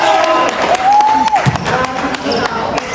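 A basketball game crowd cheers and claps, loud and busy throughout, with a whistle-like tone rising early and a commentator talking over the noise.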